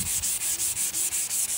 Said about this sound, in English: I'm sanding.